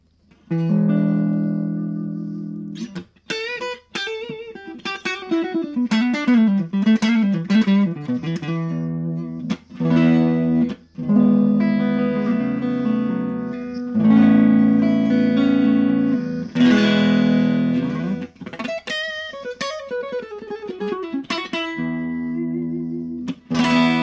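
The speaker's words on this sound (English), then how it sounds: "This is just neck pickup, clean on the Strat." A clean electric guitar, a Stratocaster on its neck pickup through a Boss Katana Mini amplifier, plays sustained chords and single-note runs with a warm, slightly roomy tone and no other instruments.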